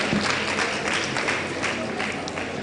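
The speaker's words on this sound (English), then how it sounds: "A round of applause for Prof." An award ceremony audience applauding, a dense continuous wash of clapping from a crowd that holds steady for the whole stretch and tapers slightly at the end.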